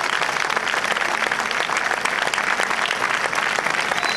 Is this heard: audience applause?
yes